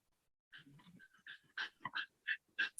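A long-furred dog pants on a hot day, close and fairly quiet, in short irregular breathy bursts with a few soft whimpering tones.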